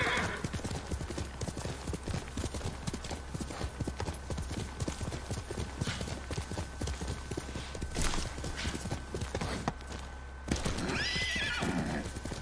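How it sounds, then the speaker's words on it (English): In the video game Ghost of Tsushima, horse hooves clip-clop at a steady rhythm throughout. A loud neigh and whinny rises near the end, with a little voice audible in the mix. "Horse!"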